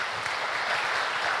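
A church congregation gives a welcoming round of applause for a visiting speaker, steady, fairly quiet clapping that continues evenly throughout.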